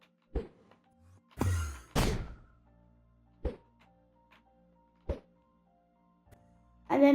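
A Minecraft wind charge bursts and launches a player after an Ender Pearl throw: a few short, hollow thumps and two louder whooshing blasts, spaced apart by near silence, with no talking.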